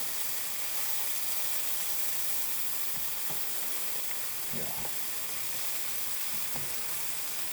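Scallops pan-searing in butter give a steady, even sizzle and hiss that carries through the whole stretch, with a few faint scrapes or taps over the frying.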